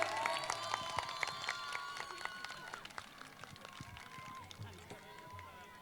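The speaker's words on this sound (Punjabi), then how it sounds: "ਹੁਣ ਤਾੜੀ ਹੋ ਜਾਵੇ ਇਹਨਾਂ ਦੇ ਨਾਂ ਦੇ" A crowd at a village mela with giddha and bhangra performers claps in a scattered, uneven burst of applause, fairly faint, while a voice talks over the clapping throughout.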